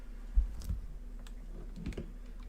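Someone types a web address into the Google Chrome browser on a computer keyboard, making a few quiet, scattered key clicks over low background hum.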